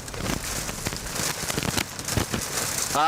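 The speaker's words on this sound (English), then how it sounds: "You can see the rain's gotten a little bit lighter." Heavy rain pours down steadily during a storm with tornado warnings around Lincolnton in the Charlotte area, a dense, continuous hiss of drops drumming on surfaces close by, with no voices.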